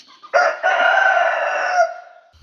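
A hen that has just laid an egg gives a loud, drawn-out call that rises and holds for over a second nearby, with a few softer clucks around it and no talking.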